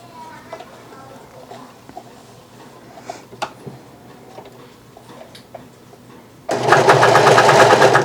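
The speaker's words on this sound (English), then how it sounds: "So as it's sewing, it's cutting off the fabric." A Vevor industrial serger sewing and trimming fabric for baby bloomers starts up near the end, a loud steady whirring buzz, after several seconds of quiet handling clicks and light movement.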